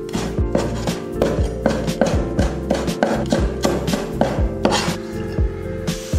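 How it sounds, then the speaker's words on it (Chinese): A knife chops rapidly on a cutting board, shredding green and red peppers into thin strips, with a quick, steady rhythm of sharp, close, loud knocks and no talking. "2个青红椒去蒂切成丝"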